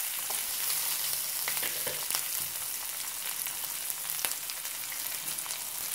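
Shallots and green chillies sauté in a pan with a dense, even sizzle that fills the whole stretch. Faint stirring scrapes sit underneath, and no one speaks.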